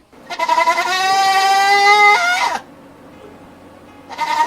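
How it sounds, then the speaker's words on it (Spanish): Goat bleating loudly, one long wavering bleat lasting over two seconds, close and strong, followed after a pause by the start of another bleat. "El silencio se quebró cuando esa cabra comenzó a balar fuertemente."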